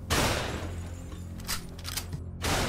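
A burst of loud, crackling gunfire, with repeated sharp reports running together over a few seconds.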